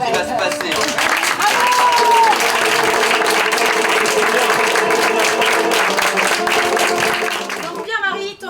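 A theatre audience at a dinner evening at Château du Coing claps loudly before an improvisation show. The dense, sustained applause and cheering run for several seconds, with voices mixed in, then fade out at the end.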